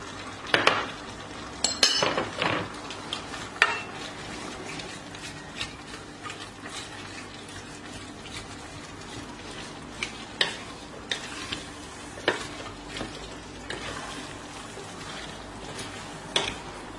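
Pepper paste frying in a pan and being stirred, with soft continuous sizzle and scattered utensil scrapes and clicks against the pan, close and fairly quiet.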